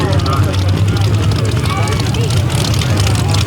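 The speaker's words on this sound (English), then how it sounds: "572 cubic inch power plant with a 1471 blower on top" A drag racing car with a 572 cubic inch engine topped by a 1471 blower, at an outlaw drag event in North Florida, gives off a loud, continuous rumbling roar, with an announcer talking over it.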